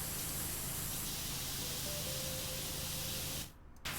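A pressure washer in the PowerWash Simulator video game sprays water at an active generator, giving a steady, loud hissing rush that cuts out briefly near the end before resuming.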